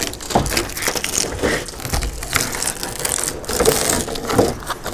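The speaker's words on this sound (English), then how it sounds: "just grab a hold of the gasket and pull it off the body" An old windshield gasket being pulled off the body of a 1973-1987 Chevy truck, giving continuous close crunching, creaking and tearing rubber noises with irregular bursts and no talking.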